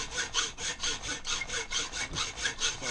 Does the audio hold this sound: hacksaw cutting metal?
yes